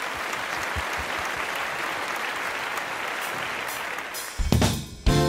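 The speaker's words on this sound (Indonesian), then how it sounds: "Oke, tepuk tangan buat Tuhan kita" Applause fills the room at a children's Sunday school worship service, steady clapping from a group with louder bursts of claps and cheering near the end.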